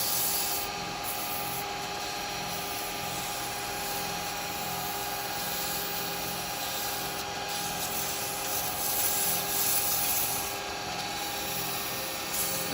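Quick light sanding of a wood-turned snowman spinning on a lathe, a steady continuous rubbing hiss with a constant motor whine, moderately quiet and unbroken, no talking.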